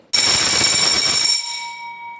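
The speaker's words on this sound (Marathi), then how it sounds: "आता मी तुम्हाला मॅन्युअल बेल वाजवून दाखवते." A manual electric bell rings loudly and continuously for about a second, metallic and bright, then cuts off abruptly, leaving a fading ringing tone; no talking.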